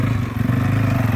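A motocross motorcycle engine revs close by, a buzzy, pulsing mid-pitched drone held steady for about a second.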